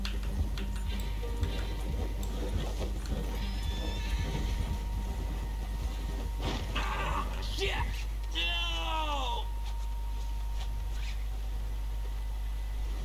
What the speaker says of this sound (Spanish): Dobló solo el caballo.